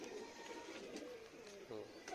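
Pigeons, including fancy Pareen birds, coo in soft, continuous low calls with a steady murmur of other birds, close by.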